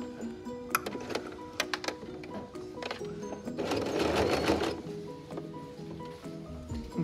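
A sewing machine stitching a cloth face mask, rhythmic mechanical clatter with a few sharp ticks and a faster, louder burst of stitching midway, close and alone.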